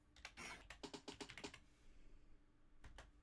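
Someone types on a computer keyboard, tapping a quick run of soft, close keystrokes, then pausing before a couple more clicks.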